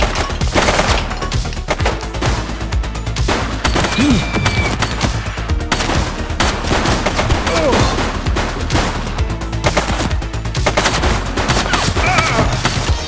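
Rapid, dense gunfire in a police shooter game, The Precinct, with sustained bursts and single cracks layered over a loud, busy background for about thirteen seconds.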